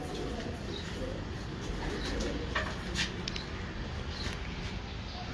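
Breeder pigeons on a rooftop coo softly against a dense, steady wash of background noise, with a few faint chirps and no talk.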